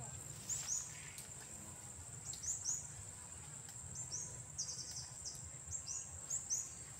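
Small birds give short, bright chirps in scattered bursts at a moderate distance, repeating over a steady background hum with a faint insect-like drone.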